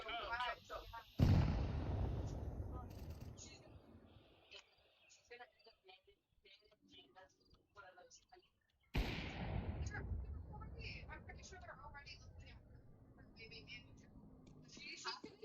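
Counter-Strike match with a loud grenade blast and bursts of gunfire, two sharp explosive onsets followed by scattered shots and decaying rumble, with game voice chatter underneath.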